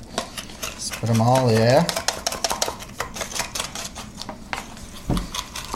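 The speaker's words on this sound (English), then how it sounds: "we're going to whisk that all together" Brown sugar, white sugar and cinnamon whisked in a bowl, a quick run of close, rhythmic ticking clicks of the whisk against the bowl, with a voice speaking briefly near the start.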